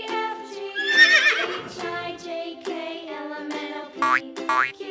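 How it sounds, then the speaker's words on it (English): A horse whinnies loudly and close, a long shrill neigh followed by shorter whinnying calls and a few bright cartoonish boings near the end. "Horse."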